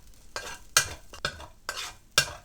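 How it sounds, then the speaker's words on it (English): Garlic, black beans and chili flakes stir-frying in a wok, five distinct scraping tosses in an uneven rhythm over a low sizzle, close and sharp, no voices. "Add in the garlic, black beans and chili flakes, then give it a quick fry."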